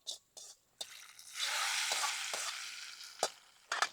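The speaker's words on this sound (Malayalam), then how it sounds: "നമുക്കിനി ഇതിന്റെ സാമ്പാറിലേക്ക് ഒഴിച്ചു കൊടുക്കാം" A hot tempering hits a pot of Kerala-style onion sambar with a quiet sizzle and frying hiss that swells for a couple of seconds between soft clinks and stirring knocks.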